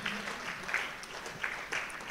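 Audience applause at a boardroom panel discussion, a continuous crackle of many hands clapping at moderate level with a few sharper individual claps standing out.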